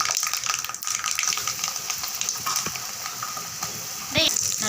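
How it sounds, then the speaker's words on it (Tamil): Mustard seeds spluttering and popping in hot oil while a citron pickle is being made, a steady soft sizzle dotted with small crackles and one sharper pop near the end. "கடுகு நல்லா பொரிஞ்சிட்டு இருக்குதுங்க"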